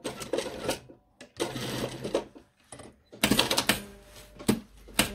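Sewing machine stitching trousers, running in several close bursts of rapid mechanical rattling separated by short pauses, the final burst longest and loudest.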